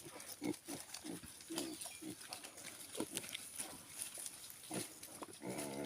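Native pigs on a farm grunt and snuffle in a steady, irregular series of low, close grunts, with some rustling and quieter animal noises around them.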